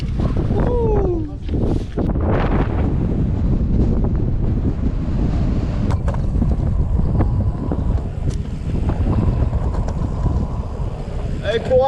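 Strong wind at the summit of Mont Ventoux buffets the microphone with a constant low roar and gusting rumble, while people's voices and a few faint whistles or calls come through in the background.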